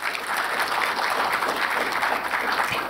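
An audience at a leadership forum applauding, a dense, even wash of many hands clapping at steady volume for a few seconds, with no one speaking.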